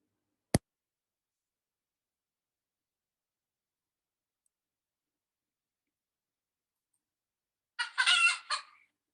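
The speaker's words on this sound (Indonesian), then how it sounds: "suara ayam." A short chicken clucking sound effect plays once near the end, after a single sharp click and a long stretch of silence.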